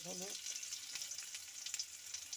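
Potatoes fry in a pan of oil while cooking a sajne shak bora (drumstick leaf fritter) dish, giving a steady, faint crackling sizzle throughout, with a brief voice at the very start.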